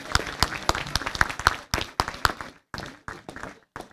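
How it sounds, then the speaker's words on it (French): Applause from the audience at a mayor's New Year greetings ceremony, a few dozen people clapping in an uneven flurry that thins out and breaks into scattered last claps. "Alors, on va l'applaudir."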